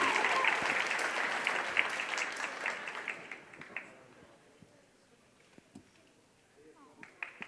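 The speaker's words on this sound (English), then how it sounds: "Please give them all one more big round of applause." Audience applause at a reconciliation event in an arts centre, loud and dense at first, then thinning to scattered claps and fading out by the end.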